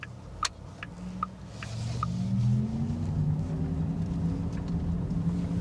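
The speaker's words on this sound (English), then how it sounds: "Now we can turn the electric sport sound on," Electric car with its simulated electric sport sound switched on, a rising synthetic engine-like hum and rumble building steadily under acceleration, moderately loud, with a few brief clicks at the start.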